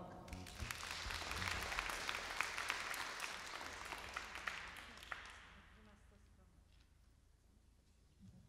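A concert audience at a Christmas show by a Polish band applauds in a loud, dense wash of clapping that fades away over the final seconds.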